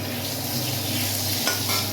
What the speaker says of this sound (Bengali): এদিকে আলুটা ভাজা হোক